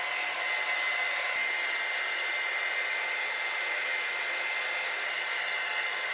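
A hair dryer blows steadily on a long-haired guinea pig after a bath, a constant close whooshing hum with no pauses.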